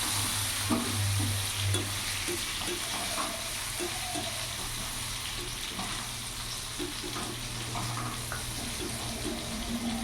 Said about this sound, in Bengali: ওই তেলের মধ্যে এখানে ফোড়নে দিয়ে দিলাম একটা তেজপাতা, শুকনো লঙ্কা, গোটা গরম মশলা। ফোড়নটা একটু ভাজা ভাজা হবে।